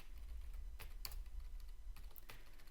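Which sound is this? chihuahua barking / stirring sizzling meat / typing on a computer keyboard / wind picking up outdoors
typing on a computer keyboard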